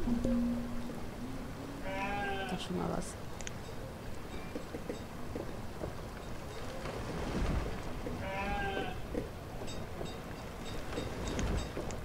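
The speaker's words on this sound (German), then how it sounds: "Jawohl, ich hab Schafe." Sheep bleat in the village-building game Banished, two separate wavering calls about six seconds apart over windy ambient noise, with someone talking briefly.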